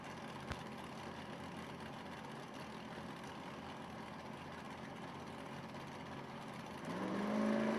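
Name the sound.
drag racing car engine revving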